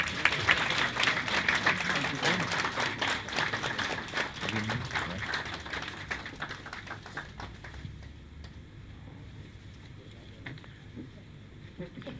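Applause from the audience at the Vector Technology Institute Class of 2024 graduation ceremony, a steady dense clapping that fills the hall for several seconds and gradually thins and fades toward the end.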